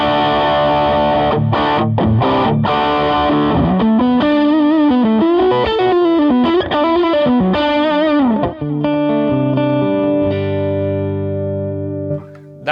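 Electric guitar alternating between clean and overdriven tones, sustained chords and single-note lines played loudly through a tube amp rig, with no talking.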